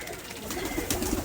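A Pakistani KTM male pigeon gives a brief, low cooing sound at close range over steady background noise.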